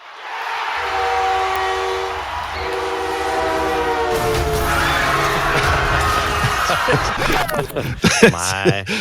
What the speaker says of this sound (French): la petite flûte de train, c'est un peu différent avec des gros trains comme ça